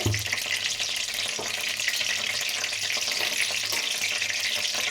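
Cumin seeds and a dried red chili frying in hot oil make a close, steady, crackling sizzle with faint spattering pops and a low background hum, no voices.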